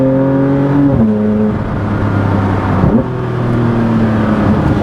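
Porsche 992 GT3 RS engine pulling hard from inside the cabin, its loud rising howl broken by two quick upshifts that drop the pitch before it climbs again, with no talk over it.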